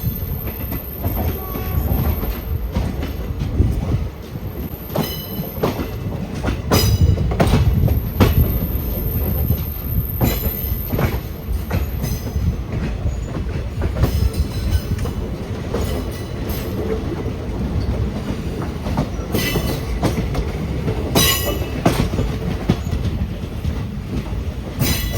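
A train runs along the rails in Kerala, heard from inside a crowded general coach: a loud, continuous rumble with rhythmic wheel clatter and occasional metallic squeals throughout.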